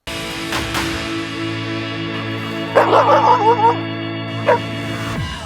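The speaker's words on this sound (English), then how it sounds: "She is a farm dog that got a bath this morning just to come to this game." A farm dog at a Fighting Illini baseball game lets out a quick cluster of yipping barks mid-clip and one more short yelp later, over a steady droning hum of background noise.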